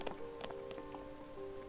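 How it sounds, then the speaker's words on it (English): Rain falling in the open world of The Legend of Zelda: Tears of the Kingdom, a steady wash of patter with scattered brighter drop hits and a faint tonal game hum underneath, no voices. "It's raining"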